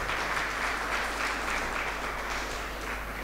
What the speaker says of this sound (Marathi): आणि म्हणून सुखसंपत्तीसाठी आपण एक जोरदार टाळ्या वाजवल्या पाहिजेत.